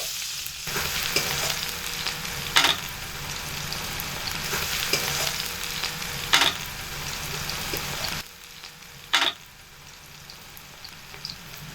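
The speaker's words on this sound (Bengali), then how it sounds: "রসুন বাটা দিয়ে দিচ্ছি এর ভেতরে এগুলোকে একসাথে মেরে চেড়ে দেবো" Garlic paste is stirred into potatoes and omelette frying in a pan, giving a constant hissing sizzle with periodic sharp spatula scrapes, quieting noticeably near the end.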